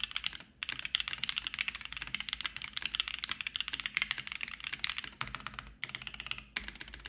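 Continuous typing on an Odin Aurora65 mechanical keyboard with lubed switches, PBT keycaps and a carbon fiber plate, heard as a dense, steady stream of close keystrokes with two brief pauses and no talking.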